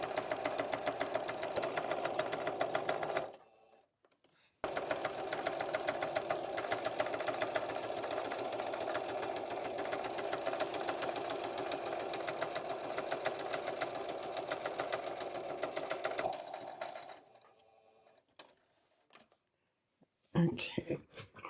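A sewing machine joins quilt-as-you-go blocks with a quarter-inch seam. Its motor hums in a long, steady run that pauses briefly, resumes, then stops. Soft handling sounds follow at the end.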